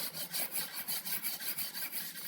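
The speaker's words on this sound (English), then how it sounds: "if I was to try to scrub it right now" A stove top drip pan soaked in vinegar is scrubbed with quick, rhythmic back-and-forth strokes, a soft rasping rub repeating about every quarter second, close and fairly quiet.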